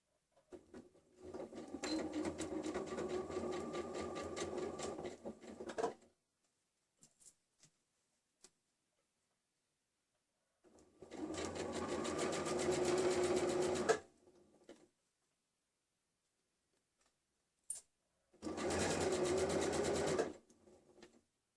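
A sewing machine stitches a tulle blouse in three separate bursts, each a few seconds of fast, even mechanical whirring and needle clatter, close and clear, separated by near-silent pauses with occasional small clicks.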